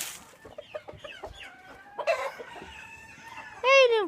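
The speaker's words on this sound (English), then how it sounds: "There's one of our roosters." Chickens cluck and murmur at close range around a feed bucket, then a rooster lets out a loud, harmonic crow in the final half-second.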